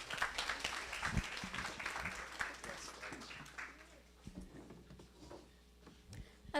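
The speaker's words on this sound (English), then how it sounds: "Give her a round of applause" Audience applause at an evening outreach program of the Islamic Center of South Bay, a steady patter of many hands that thins out toward the end, with some voices mixed in.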